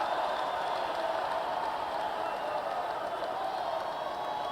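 A large crowd at a presidential inauguration cheers and applauds continuously, a dense, distant wash of voices and clapping with no single standout shout.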